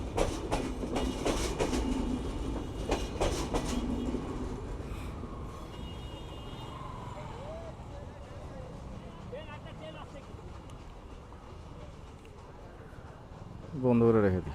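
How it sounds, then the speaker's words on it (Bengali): Padma Express train running to Rajshahi rolls past at a level crossing with a loud rumble and clatter. The sound is heaviest in the first few seconds and then fades, people talk and call out over it, and a sharp horn-like burst sounds near the end. "কত বড় ট্রেন রে, যাচ্ছে যাচ্ছে পদ্মা সিল্ক রাজশাহী"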